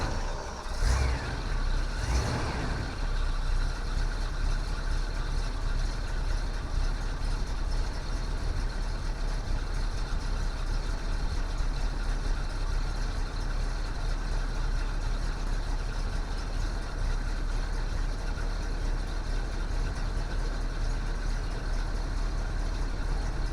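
Exhaust of a 1968 Pontiac Grand Prix: a steady, low, rumbling idle that runs unbroken and fairly quiet, with a couple of brief sharp bursts near the start and no talk.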